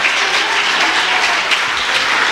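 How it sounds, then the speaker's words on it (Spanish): A congregation at an evangelistic church service in Newark, New Jersey, claps loudly and steadily, a thick, unbroken wash of applause filling the room with no speech on top. "que el aplauso sea más fuerte"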